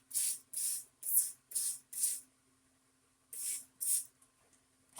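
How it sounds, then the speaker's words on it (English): A handheld spray bottle misting hands at a craft table while making ink box cards: seven short, sharp hissing bursts, five in quick succession, a pause, then two more, close and crisp. "I am going to have to spray my hands again."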